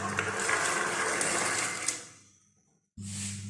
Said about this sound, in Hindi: ½ kg चने हमने रात को पानी में भिगो के रख लिए थे, जो हम अब इसमें ऐड कर देंगे।